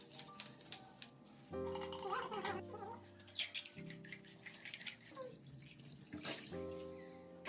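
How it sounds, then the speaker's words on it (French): Coca-Cola pours and trickles around a sink drain, a soft liquid splashing and dripping close by, with steady background tones and a few light clicks throughout. "Versez un peu de Coca-Cola autour de la zone du drain"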